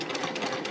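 Sewing machine stitching off the end of a curved quilt seam, a steady fast whirring hum with a rapid needle rhythm, close and continuous throughout the short burst.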